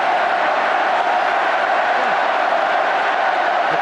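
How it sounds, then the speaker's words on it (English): A packed rugby stadium crowd at a Wales versus South Africa match keeps up a steady, loud, broad roar of cheering and chanting, with no breaks. "The crowd now trying to raise the team."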